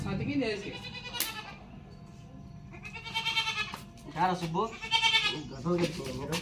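A baby goat bleats several times nearby in repeated wavering cries, with people talking over and between the calls.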